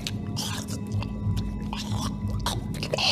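Wet, squishy chewing in the VR game A Fisherman's Tale, repeated bites and smacking at a close, moderate level with a low steady hum beneath.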